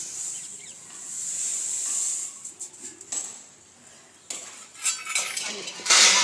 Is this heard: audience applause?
no